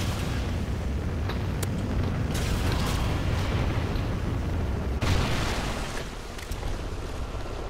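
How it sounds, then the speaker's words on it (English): A Trinity rocket killstreak strikes in a first-person shooter game, a heavy rumbling blast with sustained roaring debris and a fresh burst of impact about two-thirds through, loud and close. "Friendly Trinity rocket inbound."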